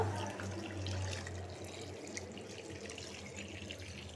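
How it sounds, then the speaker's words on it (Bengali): Water pouring steadily into a cooking pot of braised chicken and chana dal, a continuous close splashing rush with no talk. "এখন আমি পানি দিয়ে দিব"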